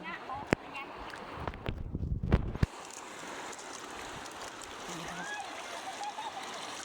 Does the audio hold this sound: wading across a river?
yes